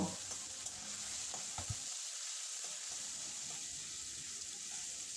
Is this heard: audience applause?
no